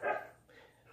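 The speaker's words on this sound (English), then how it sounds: "My dogs can't help barking." A single short dog bark or yip at the start, close and moderately loud, trailing off into a faint whimper-like sound, no talk.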